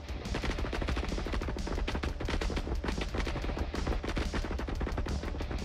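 Gunfire from the video game Star Citizen comes as dense, continuous rapid automatic bursts that stay loud and relentless throughout with no voices.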